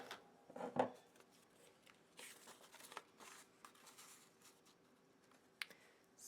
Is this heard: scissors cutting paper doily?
yes